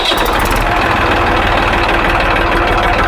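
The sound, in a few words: tractor engine idling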